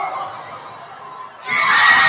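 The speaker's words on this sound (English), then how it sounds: "the crowd is very loud here" Loud crowd noise fills a gym at a boys' high school basketball championship game between JFK and Sanchez, a steady roar that suddenly swells into brighter, louder cheering partway through.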